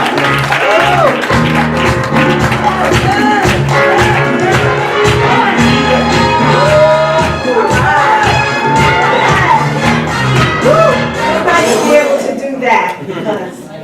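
A crowd applauds and cheers at a live event in Brooklyn, a loud, continuous wash of clapping and shouting voices that thins out near the end.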